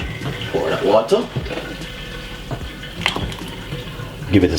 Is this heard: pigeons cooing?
no